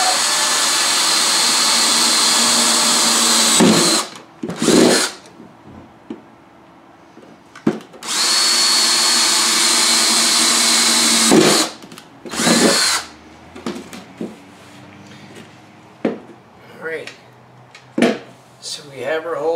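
A power drill bores holes during a DIY baby-proofing job: two long loud whirring runs, each followed by short bursts, with a person talking in the gaps between them.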